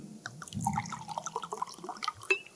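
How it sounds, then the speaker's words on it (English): A glass of water is poured by a speaker at a lectern, a short burst of splashing and trickling liquid with small drips, close and moderately quiet in a large hall. "I'm just going to pour myself a glass of water here."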